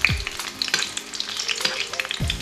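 Tunecinos fry with egg in a pan, giving a close, steady sizzle broken by bursts of spattering and scraping as the food is stirred, with no voices.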